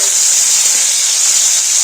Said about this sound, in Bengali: ওটাকে একটু ভাজা করে দিচ্ছি।